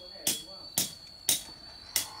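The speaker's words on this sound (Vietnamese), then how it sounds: "các bác đóng đều hai bên xuống. Cái này khi các bác đi săn thì phải chuẩn bị thêm cho mình một cái búa nhá." A hammer drives the metal pins of a bird-trap tray into the ground outdoors, giving four sharp, evenly spaced strikes at close range with a faint steady hum behind them.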